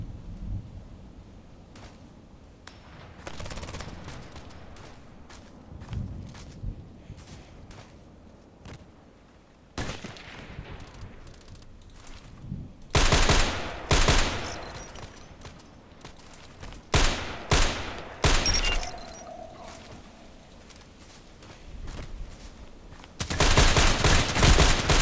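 DT SRS sniper rifle shots ring out in a video game, several loud, booming cracks spaced seconds apart over quieter in-game ambience, with a heavier burst of fire near the end.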